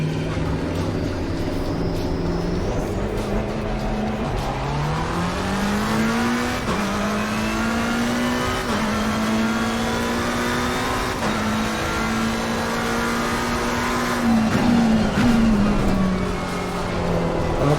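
Race car engine lapping the Barcelona circuit in the iRacing sim: a loud, sustained engine drone that climbs through the gears with brief dips at shifts, steady and close throughout.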